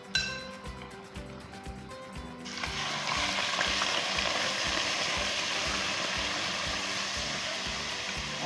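Seafood sizzles in a pan, a steady loud hiss that swells after a few seconds, with metallic clinks and scraping from stirring underneath.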